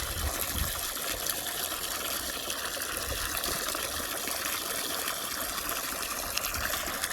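Water pours steadily into a broken bucket used to feed and water a farm animal, a continuous close splashing trickle with no pauses.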